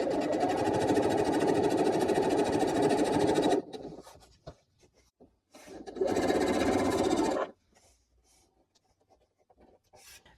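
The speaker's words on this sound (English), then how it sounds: "So we're going to sew right on that diagonal line" Sewing machine stitching fabric along a diagonal line for a quilt block, a steady close whirring run of several seconds, a pause, then a second shorter run, with no talking.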